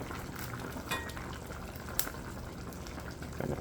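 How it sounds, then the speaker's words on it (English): A pot of brown stewed pig's tails with Irish potato bubbles and simmers steadily on the stove, with a soft continuous seething and a couple of brief clinks near the start and end. "Look at that, the pot bubble."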